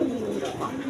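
Rasgolla pigeons, a quality pair on sale at a pigeon market, coo in low, throaty rolling calls, fairly close and steady, with no talk over them.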